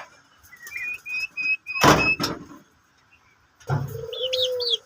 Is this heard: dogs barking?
no